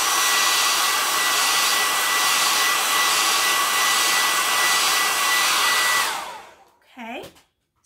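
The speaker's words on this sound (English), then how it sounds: "I'm going to use my hair dryer again to dry it" A hair dryer blows with a steady, loud whir for about six seconds, then shuts off and winds down, followed by a brief faint rustle.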